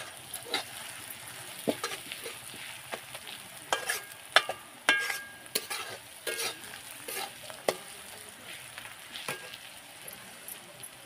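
Chopped tomatoes sauté in a pan over a wood-fired stove, a soft steady sizzle broken by irregular scraping clicks of a stirring spoon, close and fairly quiet with no voices.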